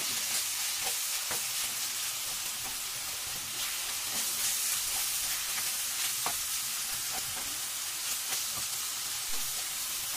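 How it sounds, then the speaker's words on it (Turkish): Continuous loud sizzling of chicken frying in a pan, with scattered scraping and clinking of stirring throughout; no voices. "Tavuk etlerimizi tavamıza döküp karıştırmaya başlıyoruz."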